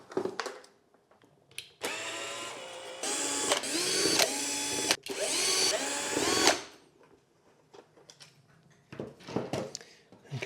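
A power driver whirs in several bursts as it backs screws out of an MK2 Golf dashboard clock, its high motor whine rising and falling over a few seconds, close and loud, followed by light handling clicks in a quiet room.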